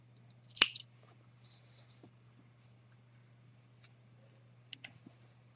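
One sharp, close snip of scissors cutting crochet yarn, followed by faint small clicks and handling sounds in a quiet room.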